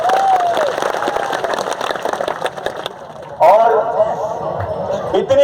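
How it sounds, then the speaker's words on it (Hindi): A crowd at a Birsa Munda Jayanti rally claps and cheers for the volunteers: busy clapping with a loud burst midway, while someone speaks over a public address system throughout. "उन कार्यकर्ताओं के लिए जोरदार तालियां बजाओ"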